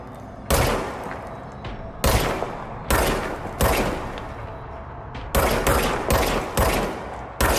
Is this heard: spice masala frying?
no